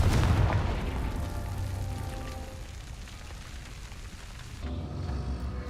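A Confringo blasting spell goes off in Hogwarts Legacy: a loud, heavy boom opens, followed by a long rumbling, crackling decay, then a second low thud near the end, with no voices.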